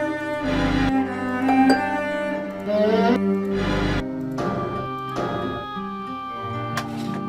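Musical levers in the Nancy Drew game Curse of Blackmoor Manor sound a series of tonal notes one after another, each a clear pitched chime with pauses between, with no talking.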